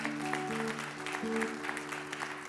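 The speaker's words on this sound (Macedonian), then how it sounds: "Слободно со аплаузот, навикнати се на аплауз." An audience claps continuously at a Macedonian music concert, a moderate and fairly steady applause with sustained musical tones ringing under it.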